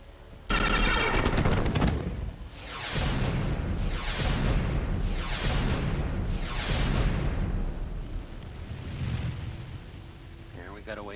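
Starship weapons in Star Traders: Frontiers fire at a pirate vessel in a series of loud booming blasts, four or five heavy bursts in a row over a sustained rumble.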